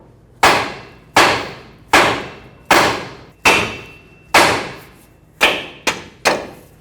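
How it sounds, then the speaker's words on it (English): Eight sharp metallic hammer blows on the steering knuckle of a 2009-2014 Ford F-150 to free the tie rod, steady at first, then two quicker strikes near the end, each ringing briefly and decaying; no talking. "hammer the knuckle until the tie rod pops up"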